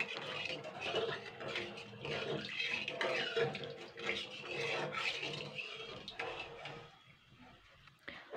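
Water, about two cups, is poured into an unwashed pan while making Bengali ros puli pitha. The splashing and gurgling is steady and continuous, moderately close, with no talking.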